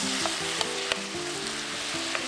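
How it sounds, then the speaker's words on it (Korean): Onion and fish cake stir-fry in oil in a pan for a Korean side dish, with a steady close sizzle and a few soft scraping stirs throughout, no voices. "어묵을 넣고 볶아줍니다."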